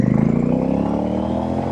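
A Royal Enfield Super Meteor motorcycle fitted with AEW aftermarket pipes pulls away under acceleration, its deep exhaust thump rising in pitch as the engine revs up, loud and close.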